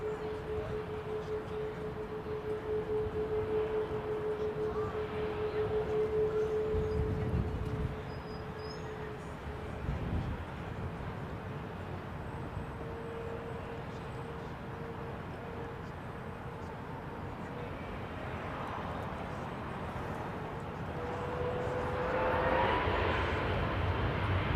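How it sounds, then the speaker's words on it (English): Boeing 727 airliner taxiing at London Heathrow Airport, a steady loud engine drone with a whining tone that swells near the end, heard alone without talk. "727 taxiing out"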